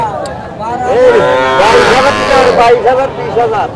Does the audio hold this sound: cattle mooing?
yes